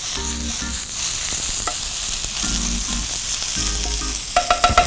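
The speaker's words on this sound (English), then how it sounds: "Now I'm gonna literally let the apple cook with the butter." Apple frying in butter in a pan while pork chops cook, a loud steady sizzle close by with a few soft clinks and scrapes near the end, no voices.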